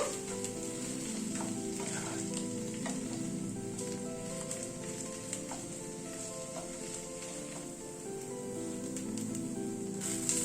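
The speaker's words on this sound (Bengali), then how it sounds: "এবার আলুটাকে সব মশলার সাথে একটু কষিয়ে নেব" Mashed potatoes with salt and spices sizzle steadily in a pan while being stirred and fried for a sandwich patty, a constant close crackle broken by small scraping clicks.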